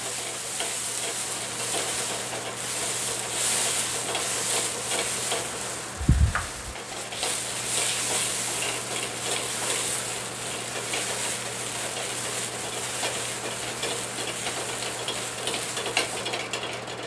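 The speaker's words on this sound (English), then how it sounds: "Gonna flambe it, cook all the booze out." Brandy flaring in a hot pan sends up a steady, broad sizzling roar that holds for many seconds, with one brief low whoomp partway through and faint clatter from the pan.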